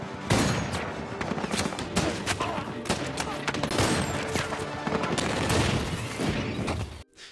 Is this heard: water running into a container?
no